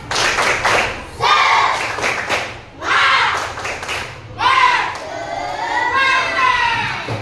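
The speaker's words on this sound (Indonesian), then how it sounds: "Tepuk semangat." A school class does a rhythmic spirit clap, with children chanting and shouting in loud bursts and thumping claps in patterned groups, pausing briefly between rounds.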